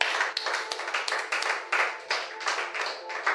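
A church congregation claps in acclamation during a sermon, a lively, rhythmic wave of many hands beating together steadily and fairly close.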